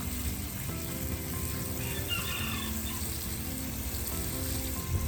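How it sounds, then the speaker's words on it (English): Steady splashing and trickling of liquid worm-casting fertilizer tea poured onto garden soil, a continuous wet hiss with no voices. "Water that in real good."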